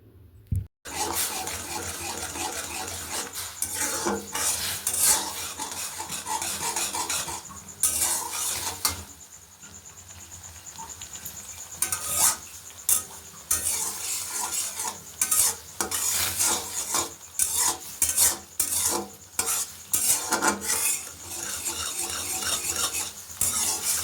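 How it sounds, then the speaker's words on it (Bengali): A spatula stirs semolina and water in a pan on the stove, making steady close scraping and clinking strokes over a soft sizzle for a long stretch. "অল্প অল্প করে জল দিয়ে এইভাবেই আমি খুন্তির সাহায্যে নাড়তে থাকবো।"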